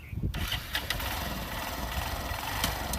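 A motorcycle engine cranks and catches, then runs with a rough, steady mid-pitched rumble that fills the clip.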